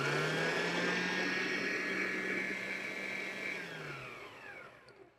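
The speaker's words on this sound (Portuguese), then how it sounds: "Abaixo bem a velocidade da batedeira." An electric stand mixer turns at low speed through cake batter, giving a steady whirring hum that runs alone before winding down and fading near the end.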